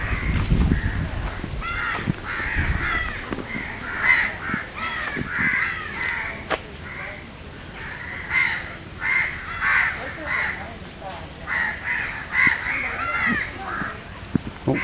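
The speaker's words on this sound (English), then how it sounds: "Hear the crows crowing." Several crows caw repeatedly in harsh bursts, some nearer and some farther off, against faint outdoor background noise at a wetland reserve in Singapore.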